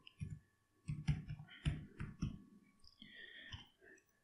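Mouse clicks while working in Autodesk Inventor on a centrifugal fan drawing: a few sharp, close clicks, including a quick double click, over a quiet background with faint low thumps.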